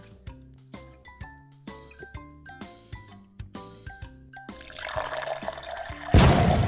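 Water is poured into a bubbling volcano experiment, starting with a rhythmic series of bright tinkling drips, then a swelling fizzing gush that grows loud and rushing at the end.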